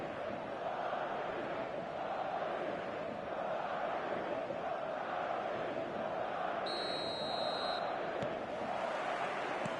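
A stadium crowd in the football video game eFootball on PS5 keeps up a dense, steady roar of cheering and chanting. It sounds loud and continuous throughout, and a commentator's voice runs over it.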